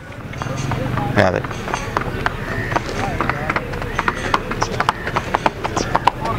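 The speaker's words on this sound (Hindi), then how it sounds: "माशाल्लाह घोड़ी आ रही जे" Hooves of a mare clip-clop steadily as she approaches through a livestock market where a horse and tanga cart are for sale, the rhythmic footfalls close and clear beneath people talking.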